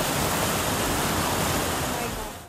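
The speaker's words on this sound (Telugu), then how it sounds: "మొత్తం ఆ పైన కొండల మీద ఉన్న ఐస్ అంతా కరిగి కిందికి వస్తున్నాయి నీళ్ళు" Meltwater from mountain ice pours downhill in a dense, continuous rushing roar, close and loud throughout before cutting off at the end.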